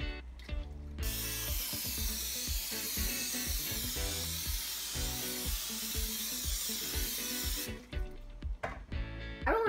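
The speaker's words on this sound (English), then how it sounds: "we have to coat a baking sheet in cooking spray" A continuous hissing spray of cooking spray onto a baking sheet, lasting several seconds, close and loud, over a background of music.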